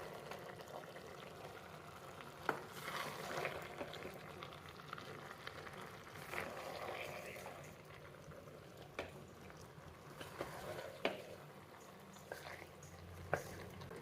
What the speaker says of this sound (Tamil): மல்லி, புதினா, லைட்டாக கிளறி விடுங்க